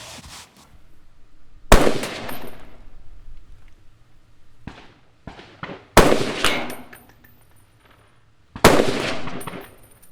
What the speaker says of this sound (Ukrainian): Ну і зараз спробую стрельнути три постріли на групу.